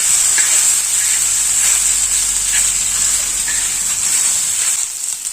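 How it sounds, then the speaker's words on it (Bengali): Spices sizzle steadily in hot oil in a frying pan as they are stirred, a dense continuous hiss with a few soft scraping touches, close and fairly loud, with no talking. "ভালো করে একটু নাড়িয়ে নেবো"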